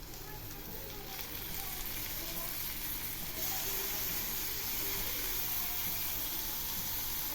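Taro stem curry sizzles steadily in a pan of released oil, with a soft continuous frying hiss that swells slightly midway; no distinct stirring strokes stand out.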